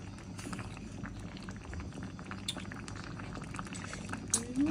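Shallots stir-fry quietly in a pan with a soft, bubbling crackle. Faint clicks and taps from stirring come throughout, and a brief scrape sounds near the end.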